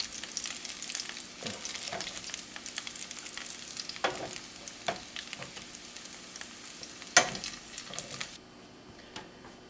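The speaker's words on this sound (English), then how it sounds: "So I got all the meat browned up" Beef pieces sizzle and fry in a hot pan while browning for stroganoff, a steady crackle broken by occasional louder stirring scrapes, then dropping away near the end.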